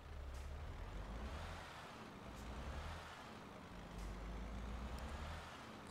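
Truck engine in Euro Truck Simulator 2 pulling away, a steady low diesel rumble that swells and eases in waves, with a brief air-brake hiss and faint high clicks over it.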